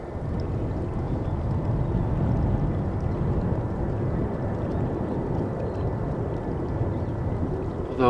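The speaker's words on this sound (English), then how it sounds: "departing planes. Well, you can hear them" Departing planes at Amsterdam Schiphol Airport roar steadily on a windy day, a broad continuous jet rumble with wind buffeting the microphone throughout, no talking.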